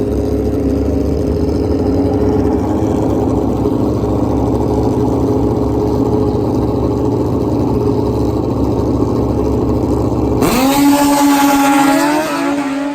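Suzuki Hayabusa drag motorcycles sit side by side at a drag strip, engines droning loud and steady. Near the end they break into a sharp rising scream as they launch together.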